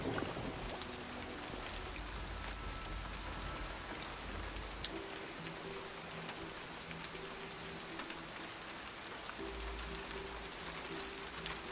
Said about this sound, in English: Hopefully it's going to stop raining.